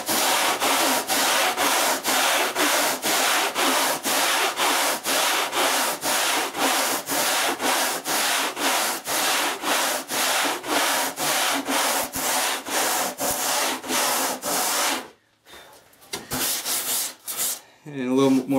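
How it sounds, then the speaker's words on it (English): A silicon carbide Rasputin rasp, its grit embedded in steel, works a badly planed wooden blank in loud, steady back-and-forth strokes that repeat rhythmically for about fifteen seconds, then stop, leaving a few faint scrapes. "this is the new Greenlight Rasputin tool. It's made out of silicon carbide embedded into the steel. It's clog-proof."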